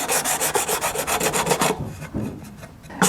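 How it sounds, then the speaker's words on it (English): Fine 600-grit sandpaper smooths the fret ends on a short-scale bass guitar under construction. Quick, rhythmic rubbing strokes fill the first half, then fade into quieter, scattered scuffs. "this is actually 600 grit to really smooth those ends over"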